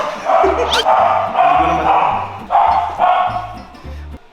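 A dog barks in short repeated yaps and woofs inside a busy billiards house, mixed with people talking and chatting nearby.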